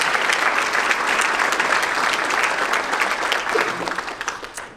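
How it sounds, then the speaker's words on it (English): Audience applause at an evening education awards ceremony honoring educators, a full room clapping steadily before tapering off near the end. "So again, another round of applause for Jackie Spinn and Wendy Cumberland"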